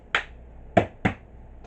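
Three crisp finger snaps, close and dry, one alone and then a quicker pair, imitating the Three Stooges' Moe.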